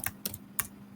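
Quick keystrokes on a computer keyboard while setting up a simple front end, three distinct clicks spaced out over a second, close and clear with no talking.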